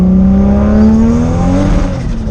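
A turbocharged Toyota Supra engine bought off eBay revs loudly and steadily, running lean at the top end, its droning tone climbing gradually under a constant, close, heavy roar with no talking.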